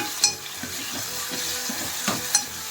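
Tomatoes and tamarind frying in oil are stirred in a pan, with a steady soft sizzle and a few sharp utensil scrapes against the metal, heard alone without talk.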